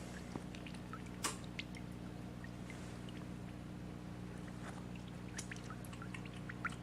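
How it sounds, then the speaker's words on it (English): The last drips of alcohol fall from the tap of a 5-gallon cannabis oil extractor, faint scattered irregular plinks over a steady low machine hum, with no voices. "Last few drips coming out."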